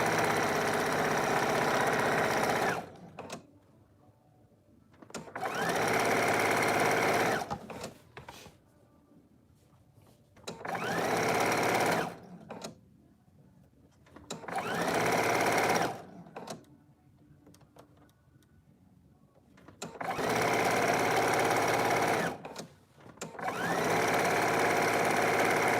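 A sewing machine stitching a shift dress, running in five steady bursts of several seconds each with quiet pauses between them as the fabric is adjusted, loud and close.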